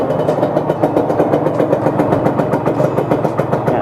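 A Honda LS125 motorcycle idles quietly and close up, its single engine putting out an even, rapid train of soft exhaust pulses that holds steady throughout, with no voices.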